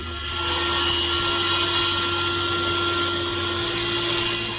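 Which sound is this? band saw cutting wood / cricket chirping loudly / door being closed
band saw cutting wood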